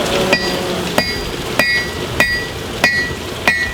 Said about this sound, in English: Be hammering out the edge first.